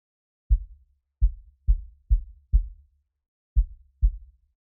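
Deep, booming kick drum hits with heavy sub bass added by a plugin, seven thumps in an uneven pattern, each decaying quickly into silence.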